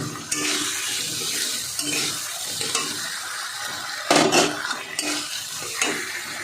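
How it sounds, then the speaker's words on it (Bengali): Fried potatoes are stirred into sizzling spice paste in a pan for a fish curry, with repeated spoon scrapes and clanks against the pan over a steady close fry, and no voices. "এবার আমি ভেজে রাখা আলুটা দিয়ে দেবো।"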